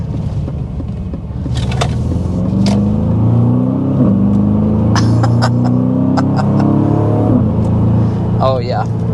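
A 2025 Aston Martin DBX 707 revs loudly from inside the cabin, a steady, rising rumble with occasional sharp crackles. Voices are heard beneath the engine.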